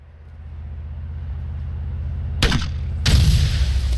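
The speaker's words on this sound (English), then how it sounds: "Did you see that grenade shot?" A grenade launched in a video game shootout involving an SUV, heard as two loud, close booms about half a second apart over a steady low vehicle rumble.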